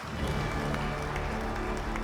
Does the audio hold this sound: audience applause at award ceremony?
yes